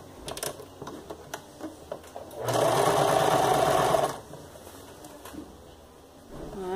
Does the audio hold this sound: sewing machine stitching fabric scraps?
yes